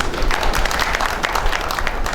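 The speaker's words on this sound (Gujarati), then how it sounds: "પાછી બધાને ઊંઘ આવતી હોય તો જોરદાર તાળીઓ પાછી પાડો" Steady applause from an audience at a Gujarati lecture, dense clapping filling the room at an even level from start to finish with no pauses.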